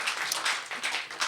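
Audience applause at a Sunday Assembly gathering in Nashville, a short burst of many hands clapping at moderate volume from the room, with no voices over it.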